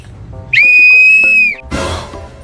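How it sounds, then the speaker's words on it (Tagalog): A toy whistle gives one loud, shrill, sustained blast of about a second, followed by a brief rustling noise. "Susubukan ko yung pito."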